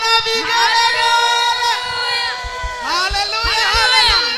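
A church congregation at a Sunday service cheers and ululates, high trilling voices rising and falling over a loud crowd, with rhythmic thumps underneath and voices calling out.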